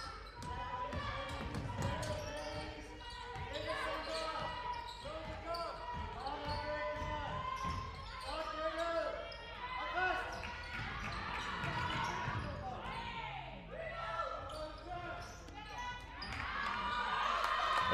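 A basketball bounces repeatedly on a hardwood court during a women's league game in Denmark, with steady crowd noise and commentary running over the dribbling.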